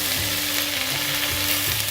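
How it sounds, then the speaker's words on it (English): Mustard seeds and sesame seeds pop and splutter in hot oil, a dense continuous sizzle with scattered small crackles, close and steady with no talk. "which is the mustard seeds and the sesame seeds. And you can probably hear them popping."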